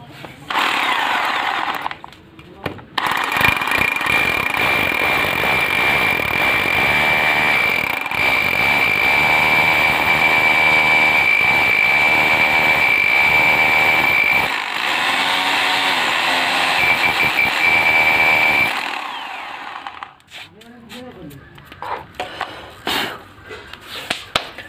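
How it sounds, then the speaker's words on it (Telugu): A power drill boring a hole into a cement block for an anchor hook, a loud continuous grinding whine for about seventeen seconds with brief starts and stops, close by, then quieter clatter afterward. "ఇప్పుడైతే ఇక్కడ ఈ ప్లేస్లో అయితే నేను డ్రిల్ అనేది వేసుకుంటాను."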